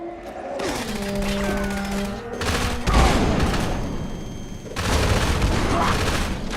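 Explosions and rapid gunfire from a Fallout-style video game fight against a level 100 super mutant, heavy booms and dense crackling bursts filling the whole clip, loud and close, with brief tonal game sounds mixed in.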